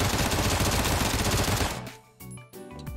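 A FAMAS rifle fires in rapid automatic bursts in a battle royale video game, a loud, dense rattle of shots for about two seconds, then the gunfire stops and a few quieter game sounds follow.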